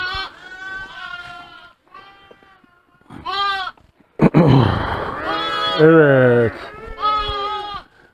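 Sheep bleat repeatedly, loud and close, with wavering calls overlapping a voice talking between them.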